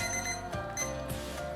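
A timer alarm going off during a timed makeup challenge, a loud, steady electronic ringing tone that sounds alone and close for a moment.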